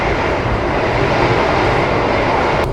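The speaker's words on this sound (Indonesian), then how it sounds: "Suara roda dari luar itu bisa masuk ke dalam kabin penumpang." Steady, loud broadband rumble of train wheels on track heard from inside an executive-class passenger car on the KA Malioboro overnight service, droning without pause throughout.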